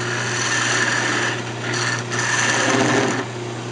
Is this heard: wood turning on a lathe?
yes